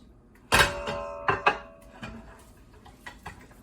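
An egg being added and stirred into pastry dough, heard as a few sharp clinks and knocks of a utensil against a bowl followed by softer scraping taps, close and alone.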